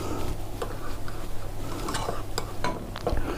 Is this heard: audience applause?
no